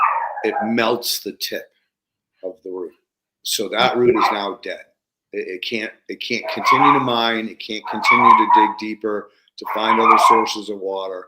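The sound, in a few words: dog barking and whimpering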